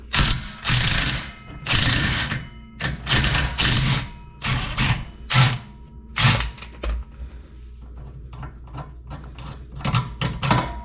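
A ratchet wrench clicks rapidly in repeated bursts while breaking loose a fastener on the rear strut of a second-generation Chevy Cruze, loud and close with short pauses between strokes; no speech.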